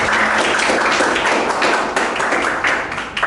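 A classroom of students claps for a classmate, a dense, even burst of applause that holds steady for about three seconds and fades slightly at the end.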